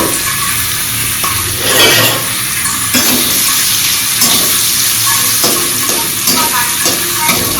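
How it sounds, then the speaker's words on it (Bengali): Paneer fries in a pan with a loud, steady sizzle broken by scraping stirs and clatters, with no talk over it. "আর এই পনিরটা ভাজা হয়ে যাচ্ছে।"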